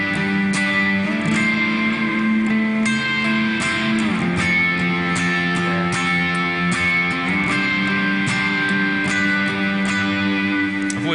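An electric guitar plays power chords with a major third on top, strummed in a steady rhythm with a bright, slightly distorted tone and sustained ringing chords.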